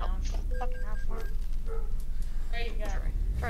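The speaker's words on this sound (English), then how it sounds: "why is your dog barking so much?" A dog barks in short, repeated yips and woofs mixed with voices talking over a steady low hum.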